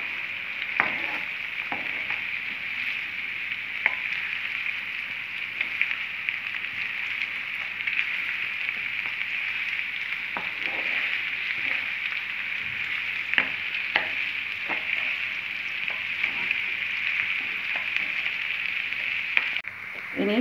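Onions frying in a pan for paneer curry, a constant soft sizzle with occasional scraping stirs and clinks, close and fairly quiet.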